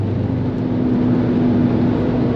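A 2003 car with its stock exhaust system idles or cruises in a steady, moderately loud low drone with a constant hum, no talking over it.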